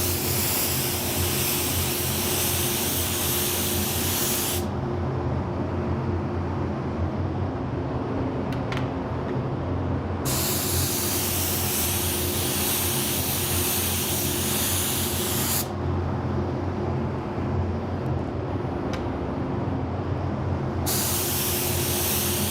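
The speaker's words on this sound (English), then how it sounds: "we are ready to spray colors in the cup" A spray gun lays down the first coat of candy paint in a steady, loud, close hiss, broken into long passes with brief pauses between them; no voices.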